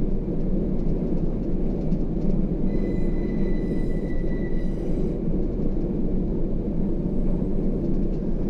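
A freight train rolls past in the Run8 train simulator game, a steady, heavy rumble of wheels and cars that holds for several seconds, with a brief higher squeal partway through, loud and continuous without any voices.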